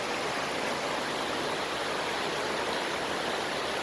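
Steady broadband rush of stream water flowing near a waterfall along a bike path by Farrington Reserve, running toward the Great Miami River; a constant, even wash of water with no voices.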